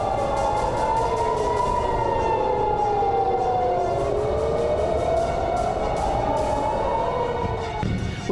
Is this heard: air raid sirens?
yes